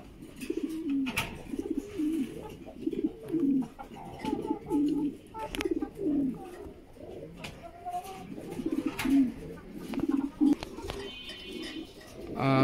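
Black Lahori pigeons kept as a breeding pair in a cage coo in repeated low, throaty phrases at a fairly regular rhythm, close and moderately quiet, with a few wing flutters and scattered clicks.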